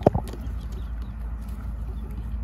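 A Black Copper Marans hen in a backyard flock gives a brief cluck near the start, followed by faint farmyard background noise.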